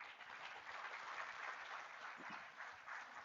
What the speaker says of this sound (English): please give a Lady- warm round of applause